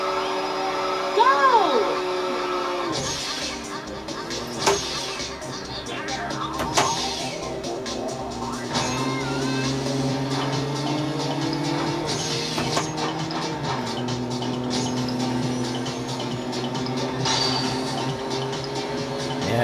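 Race cars from the Atomiswave arcade game Faster Than Speed drone on with continuous engine whine that rises and shifts in pitch, alongside game effects, with a voice talking over it.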